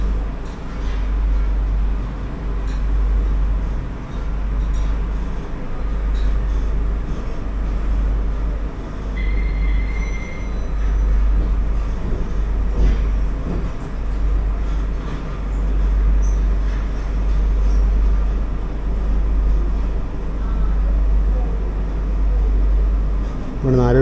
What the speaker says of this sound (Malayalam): കൃത്യം 3:28 ഇപ്പോൾ ട്രെയിൻ പ്ലാറ്റ്ഫോമിലേക്ക് കയറിയിട്ടുണ്ട്